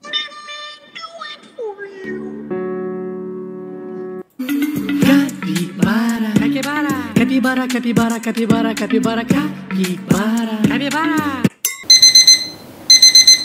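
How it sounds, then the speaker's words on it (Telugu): An alarm clock sound effect from a soundboard tool rings out in repeated electronic beeping bursts, loud and clear, with tone changes between patterns. "ఇప్పుడు అలారం సౌండ్, మీకు ఏమైనా అలారం సౌండ్ కావాలంటే ఇటువంటి కూడా సౌండ్ ఎఫెక్ట్స్ అన్ని కూడా మీకు సౌండ్ బోర్డ్ అనే టూల్లో అయితే కనిపిస్తాయి"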